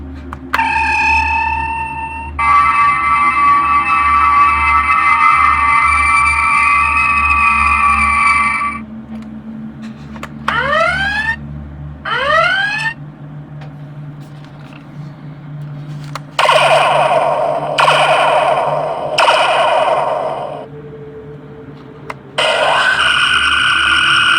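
Electronic weapon-firing effects from a Diamond Select Star Trek U.S.S. Enterprise NCC-1701 toy starship: sustained warbling phaser tones, rising laser zips and buzzing bursts, loud and close over a steady hum, with no talking.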